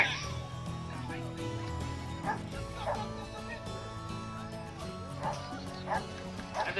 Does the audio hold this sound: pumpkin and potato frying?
no